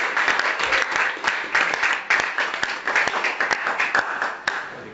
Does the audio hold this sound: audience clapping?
yes